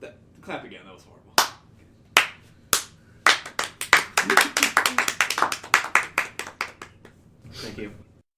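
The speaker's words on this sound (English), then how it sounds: "Clap again." Hands clapping in a room, starting with a few scattered sharp claps and building into a rapid, uneven burst of many overlapping claps from a small group, with a brief voice at the start and end.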